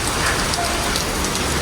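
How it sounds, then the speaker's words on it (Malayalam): A sudden downpour of rain falls at a hotel in Myanmar, a dense, loud, steady hiss of drops on surfaces that fills the whole moment with no voices. "ഉടനെ മഴ കേട്ടോ."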